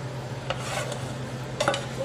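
Sauteed onions being stirred into a bowl of potato salad, a soft continuous scraping and mixing with a couple of brief utensil clicks against the bowl, close and fairly quiet.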